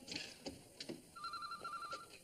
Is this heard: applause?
no